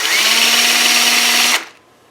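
Handheld power drill spinning a flap sander mounted on a rod, a loud steady high whine for about a second and a half before it cuts off and winds down to quiet.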